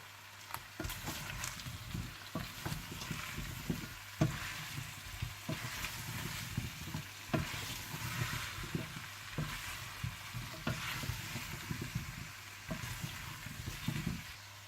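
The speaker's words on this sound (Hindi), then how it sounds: "थोड़ा सा भुनने के बाद आप इसमें डाल दें हरी मिर्चें, जुलियन कटी हुई अदरक और गरम मसाला डालकर अच्छी तरह से मिला लें" Green chillies, julienned ginger and garam masala stirred while frying in a pan, with a soft sizzle under frequent spoon taps and scraping clicks, fairly quiet and close.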